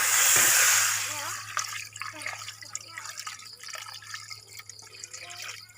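Water is poured into a hot cooking pan, starting with a loud gushing splash and hiss that fades into softer bubbling and dripping, with faint background noise throughout.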